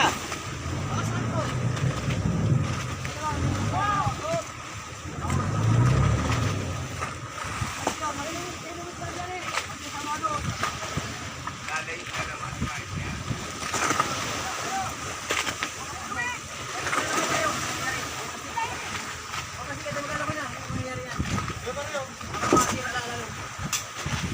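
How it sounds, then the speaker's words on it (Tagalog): Big ocean waves splash and slosh around a drifting vessel out on the Pacific after a storm, with irregular heavy surges and watery bursts throughout while several people talk and call out over them. "delikado malalaki ang alon"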